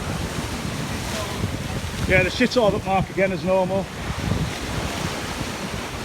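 Wind and sea swell rush steadily around an open boat at sea, a broad continuous roar of waves and air, with someone talking briefly over it.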